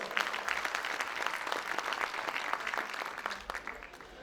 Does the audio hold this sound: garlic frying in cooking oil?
no